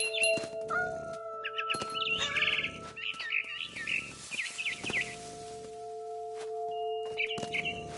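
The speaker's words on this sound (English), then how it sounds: "It was a barn swallow going back to her nest." A barn swallow chirps in the video game What Remains of Edith Finch, bursts of rapid twittering calls over steady ambient game tones and scattered clicks, fairly close and moderately loud.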